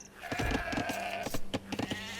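Sheep bleating in the strategy game Age of Empires II, several short wavering bleats repeating close together over a steady game background, loud and near with no talk.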